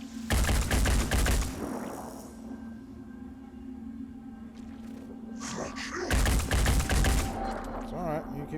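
Bursts of gunfire in the turn-based tactics game Phoenix Point, two loud dense volleys at the start and again near the end, separated by a steady background hum.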